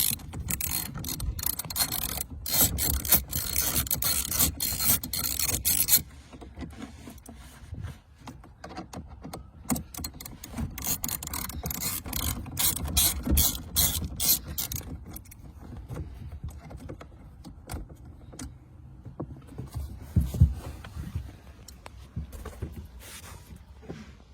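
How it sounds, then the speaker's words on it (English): A ratchet clicks in dense bursts while screws come out of the lower driver's-side dashboard panel of a car, a steady run of close mechanical ticking that thins out partway through. "I'm just going to remove the screws now."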